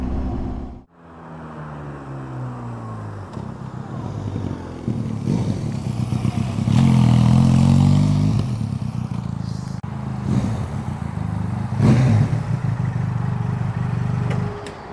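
A Benelli TRK 502X 500cc adventure motorcycle being ridden, its engine droning steadily up close and rising and falling with throttle changes, wind and road noise underneath, with a brief cut near the start.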